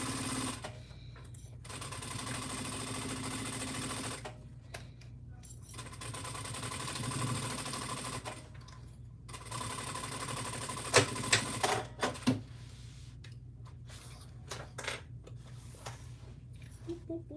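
A sewing machine stitches a bag in quiet bursts of rapid mechanical chatter, separated by pauses and a few small clicks and handling noises.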